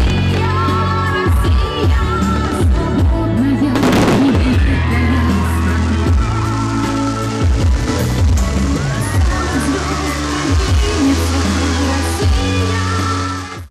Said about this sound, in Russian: Грандиозный и уникальный праздник завершился масштабным фейерверком.